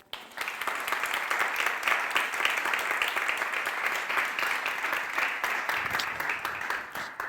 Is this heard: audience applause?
yes